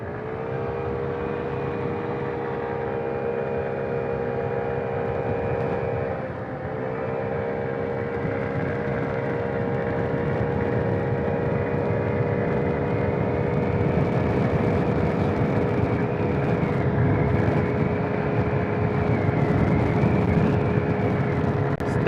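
A Honda Ruckus scooter with a stage 1 kit cruising at a steady speed, its small engine droning continuously and loudly with a slight dip in pitch partway through, no speech.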